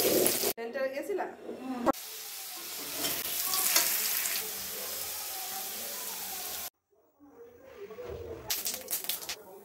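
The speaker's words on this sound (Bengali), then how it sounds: "পেঁয়াজটা ভেজে নিচ্ছি আর লোটে মাছটা করবো।" Onions sizzle and fry in a pan while being stirred for a Bengali fish dish, a steady crackling hiss with a voice talking over it and occasional clattering of utensils.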